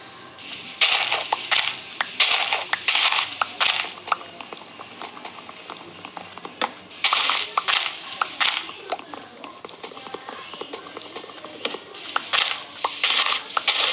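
Repeated block-breaking crunches from Minecraft One Block mining, coming in rhythmic bursts of rapid hits separated by short quiet gaps, close and fairly loud with no talk.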